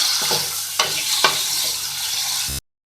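Small boneless chicken pieces fry in a pan while being stirred, with a steady close sizzle and a couple of sharp scraping stirs before the sound cuts off abruptly.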